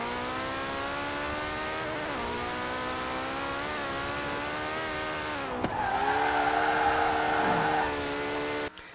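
A 1,400-horsepower car in the racing game Forza Horizon 4 accelerating hard, a high engine whine climbing through rising pitches with brief dips at gear changes, then a rougher, louder surge near the end.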